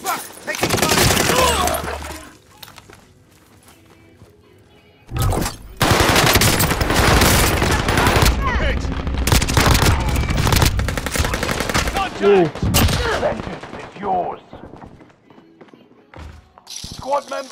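Automatic gunfire in the Call of Duty: Modern Warfare video game, with loud sustained bursts of machine-gun fire repeating in long stretches, broken by brief pauses and quieter moments, with a voice speaking in between.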